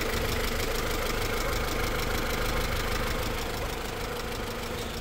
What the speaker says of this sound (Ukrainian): Давайте послухаємо роботу двигуна. 16 клапанів у нас тут.